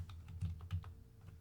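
Quick keystrokes on a computer keyboard, several soft close taps in an uneven burst at low volume with no talking.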